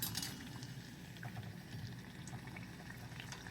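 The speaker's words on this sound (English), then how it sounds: "Aloo takes little time to fry" Potatoes (aloo) frying in hot oil on a stove over a medium flame, giving a soft, continuous bubbling sizzle that stays quiet and even throughout, with no voices.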